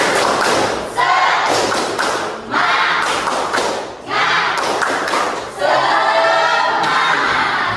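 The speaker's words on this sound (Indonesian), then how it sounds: "Oke, tepuk semangat." A school class does a rhythmic spirit clap, loud, close bursts of group clapping and thumping in a repeated pattern with short pauses between phrases, and children's voices chanting along.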